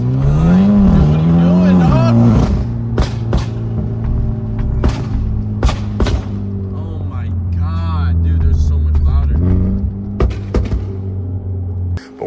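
Hyundai Elantra N with an aftermarket exhaust setup revving, a deep rising engine note followed by sharp pops and crackles, with faint voices in between.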